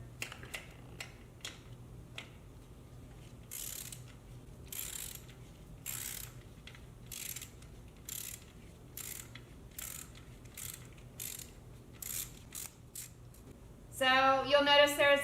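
A wrench ratchets in repeated short clicks while loosening a 12mm exhaust bolt on a 2022 Honda Grom RR, quiet and close, ending in a louder burst of mechanical rattling.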